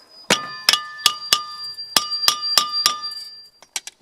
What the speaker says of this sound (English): some taps with a hammer will usually break it loose.